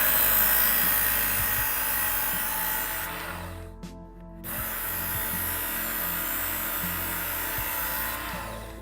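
Knife blade being sharpened on a powered sharpener, a continuous grinding whine with a short break midway before the grinding resumes, close and fairly loud, no talking.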